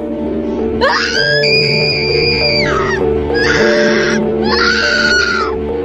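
A woman screams in fear in three long, loud wailing cries with a harsh, hoarse edge, each rising and holding before breaking off, over a steady low background.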